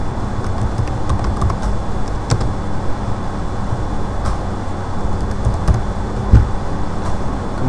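Keys tapped on a computer keyboard as a service name is entered into pharmacy software, scattered clicks over a steady hum of background noise.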